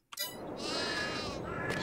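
Sheep bleat in the Farming Simulator 22 video game: a sustained, fairly loud bleating cry with no talk over it, starting after a brief onset and holding steady to the end.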